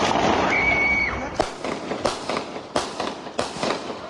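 Several sharp gunshots fired as police warning shots during a chase of a fleeing robber in southern Espírito Santo, coming as about four separate loud bangs spaced irregularly after a stretch of busy outdoor noise.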